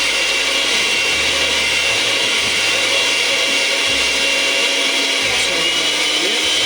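Lemon icebox pie filling being mixed in a bowl by machine: a steady, loud whirring motor drone runs continuously throughout, with no talking.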